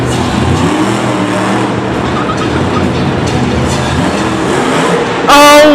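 The Blue Thunder monster truck at a Monster Jam event in Singapore roars steadily as it drives over crushed cars. The loud, continuous engine and crowd din fill the arena, ending in a brief high tonal burst.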